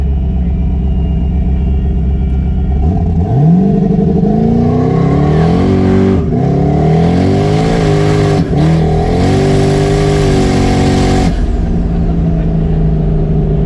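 A 700 hp twin-turbo 8-rotor Mazda RX-7 launches hard from a dig, its loud rising engine note climbing through quick gear shifts over a constant heavy in-cabin rumble, then easing off near the end.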